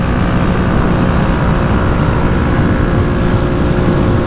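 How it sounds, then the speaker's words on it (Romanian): A 125cc single-cylinder motorcycle being ridden, its engine giving a loud, steady drone mixed with rushing wind noise throughout, with no talking. "Are un motor de 125 cm cubi și într-un singur cilindru."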